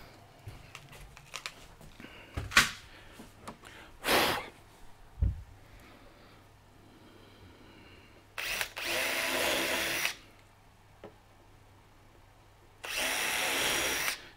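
A power drill whirs in two sustained bursts of about two seconds each while melamine drawers are assembled, with scattered knocks, clatter and short tool noises between them, close by and with no talk.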